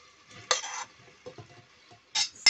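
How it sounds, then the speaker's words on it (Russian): Onion sizzles quietly in a pot after meat was browned, while a utensil scrapes and clinks against it a few times, close by, with no talking. "Ставим на плиту и жарим лук до полумягкости."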